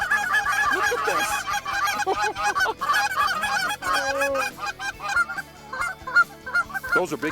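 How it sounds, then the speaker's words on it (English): Canada geese honk loudly and continuously during migration, a dense chaotic chorus of many birds calling at once, close by with no talking. "Those are big geese."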